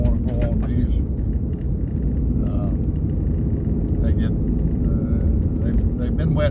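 A car driving over patchy gravel road at about 70 km/h, a continuous close rumble of tyres and engine with brief clatters of loose stones.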